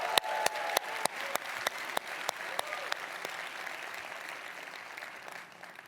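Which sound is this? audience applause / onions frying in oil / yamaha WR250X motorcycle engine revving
audience applause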